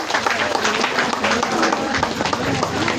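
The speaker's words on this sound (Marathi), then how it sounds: "सर्वांनी टाळ्या मारायच्या आहेत" Guests at an engagement ceremony clap with dense, continuous applause mixed with crowd chatter, loud and close the whole time.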